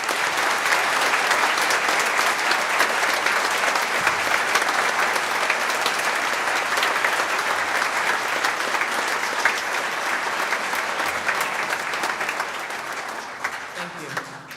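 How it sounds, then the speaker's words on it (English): Sustained applause from an audience at a Veterans Day program honoring an officer's service, a dense even wash of clapping from many people that holds steady for about thirteen seconds before tapering off. "Would everyone please join me in applauding Officer Josh's service"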